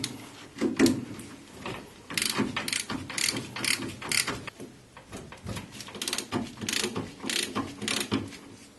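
A ratchet clicks in repeated bursts, close up, loosening suspension bolts on a 1275 MG Midget during a driver's side strip-down. Short pauses and occasional clunks fall between the runs of clicking.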